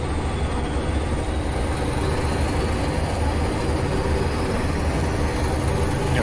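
A Class 20 double-headed coal train rolls by in Train Simulator Classic, a loud continuous rumble and rattle of wagons with a steady low drone, close and unbroken.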